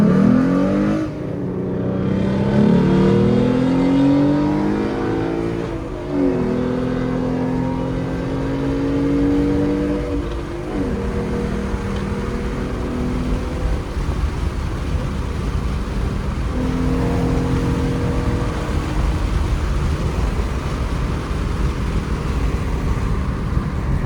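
A 2014 Mustang V6 cruises and accelerates on a highway alongside 350s and a Supra, its engine rising in repeated revving pulls over a constant loud wind and road roar.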